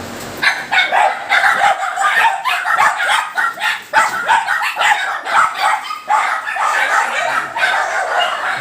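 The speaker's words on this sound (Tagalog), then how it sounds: "Kaya ito, mga aso ko nagtatahulan." Several dogs bark, yip and whimper in a continuous, loud, overlapping chorus of short excited barks close by, with no pause throughout.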